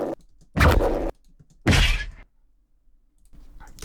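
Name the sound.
layered sound effects forming an explosion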